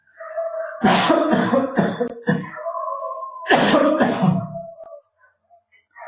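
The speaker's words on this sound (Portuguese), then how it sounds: "eu preciso tossir aqui" Two bursts of harsh, repeated coughing close to the microphone, each a cluster of sharp hacks, separated by a short pause.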